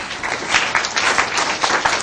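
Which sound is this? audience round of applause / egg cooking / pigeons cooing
audience round of applause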